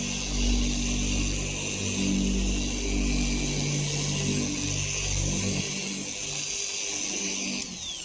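A car polishing machine spins at too high a speed, a loud steady whine and drone held throughout that eases slightly toward the end, with no talking.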